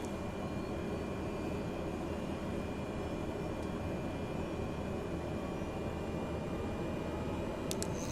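A Cessna Caravan taxiing in Microsoft Flight Simulator, its turboprop engine a steady, dense rumble and whine holding constant throughout, with a faint high tone above.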